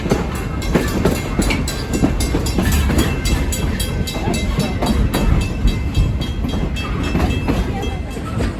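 A long freight train rolls past close by, a loud steady rumble with rhythmic clickety-clack of wheels over rail joints and metallic squeals, continuous throughout.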